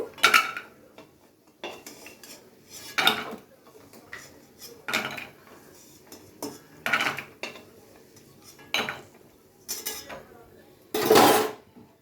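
Fried lentil dumplings (bori) are lifted from the pan onto a plate, with a series of separate metal clinks and scrapes of utensil against cookware and plate, spaced irregularly and close, with no talk.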